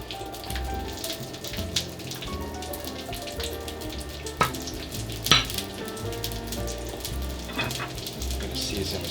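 Pearl onions fry in a tablespoon of olive oil in a pan over medium heat, giving a steady crackling sizzle broken by a few louder pops and clacks as they move around the pan.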